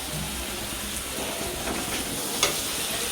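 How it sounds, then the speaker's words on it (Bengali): Rice boils in a pot on a home stove, giving a steady, close bubbling hiss throughout with one brief louder pop near the end. "এসেই এই ভাতটা ফুটে আসছে আস্তে আস্তে।"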